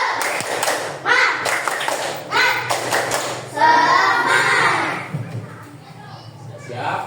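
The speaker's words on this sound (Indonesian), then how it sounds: "Kalau sudah siap, kita awali dengan tepuk semangat." Children in a classroom perform a rhythmic spirit clap, with sharp bursts of hand claps and thumps in patterned groups alongside children's voices and an adult talking.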